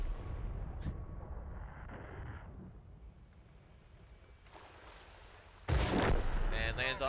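Gunfire in an ELT competitive video game match: an early sharp shot, then a quiet stretch before a loud cracking burst of fire with ringing high tones near the end.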